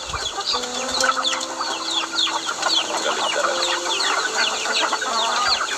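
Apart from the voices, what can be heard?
chickens clucking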